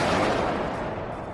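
A loud, sustained thunder-like crash of a lightning strike rumbles across the whole span in an audio drama scene, broad and heavy, then fades slightly, with no voices over it.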